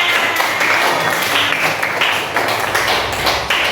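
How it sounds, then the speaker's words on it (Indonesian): Fifth-grade pupils clap together in a primary school classroom at SDN Rancaekek 05. The clapping is steady, close and continuous throughout, with little pause. "Kita tepuk tangan untuk semuanya"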